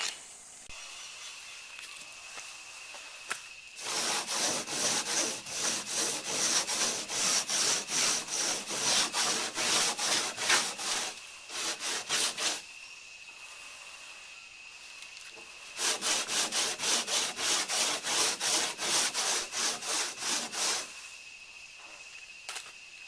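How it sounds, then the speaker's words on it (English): Sandpaper rubbed by hand over a wooden catamaran pontoon gives a rhythmic back-and-forth scratching in two long bursts of rapid strokes, with quiet pauses between them. "Wow, going through sandpaper pretty quick."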